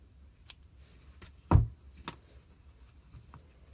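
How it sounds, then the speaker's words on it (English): Scissors snip through crochet yarn in a few quick, soft cuts, one sharper and louder than the rest, close by in an otherwise quiet room. "cut your yarn"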